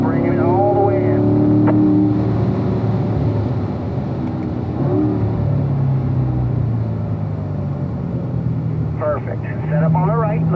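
A 2017 Corvette Stingray C7 Z51 on the Spring Mountain race track at full throttle, its engine a loud, steady droning roar with rising pitch sweeps and an instructor talking over it.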